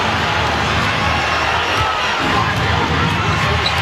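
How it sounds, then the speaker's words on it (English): A basketball arena crowd booing during a 2008 playoff game between the Hornets and Spurs in San Antonio, a loud, sustained wash of massed voices with a commentator talking over it. "The crowd booing for the second time in a row down at that end of the floor for the lack of a call"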